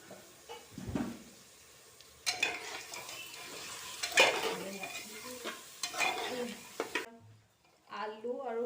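Fish slides into a hot pan and fries, giving a sizzling hiss broken up by repeated stirring scrapes and utensil clatter, with someone speaking over the cooking before a short quiet stretch at the end.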